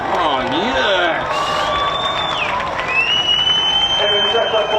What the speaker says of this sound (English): give them a nice round of applause as they come in